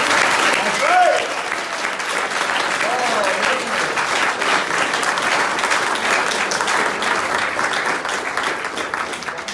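An audience claps steadily throughout, a dense and even patter of applause filling the room, with a voice briefly audible early on.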